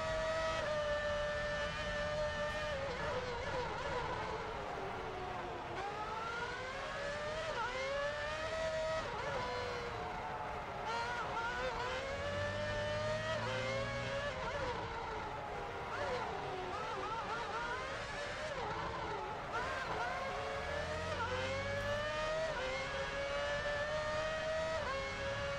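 An F1 race car engine in F1 Championship Edition on PS3, a high steady whine that rises and falls through the gear changes on a timed lap, loud and constant throughout with no voices.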